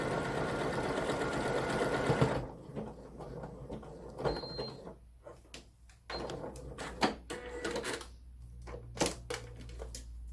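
A sewing machine stitches a buttonhole, zigzagging back and stitching forward; a fast, busy mechanical whir for the first two seconds gives way to scattered clicks, clunks and handling noises.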